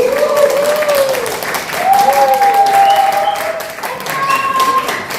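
Audience applause welcoming a singer at a Korean forum inauguration ceremony, steady clapping under sustained melodic tones from music playing throughout.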